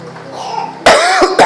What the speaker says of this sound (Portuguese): Isso não é resfriado, isso é um pigarro, uma alergia